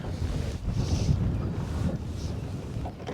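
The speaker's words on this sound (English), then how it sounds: "The wind isn't bad at all." Wind blows outdoors over open water on a bright day of boat fishing, a steady low rumble buffeting the microphone with faint airy gusts, and no voices heard.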